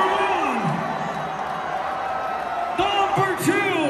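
Festival crowd at Basscon Wasteland 2022 cheering and whooping for a man downing Jägermeister shots, a dense roar of voices with yells rising near the end, loud and close.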